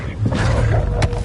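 The Incendio fire spell cast in the Hogwarts Legacy video game bursts out as a close, loud, roaring whoosh of flame that holds steady for about a second, with a brighter crackling flare near the end.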